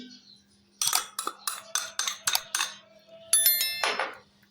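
A spoon clinks against a bowl while spices are mixed into yogurt for a chicken biryani marinade, a quick series of sharp metallic taps in uneven bursts, close and fairly quiet, with no talking.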